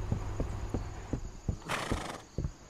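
A horse in Real Estate Simulator whinnies with a bright, drawn-out neigh while its hooves strike a steady clip-clop rhythm, about eight evenly spaced thuds close by, with no talking.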